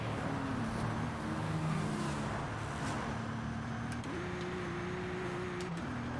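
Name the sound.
car engine accelerating in video game Forza Horizon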